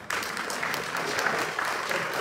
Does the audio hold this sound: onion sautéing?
no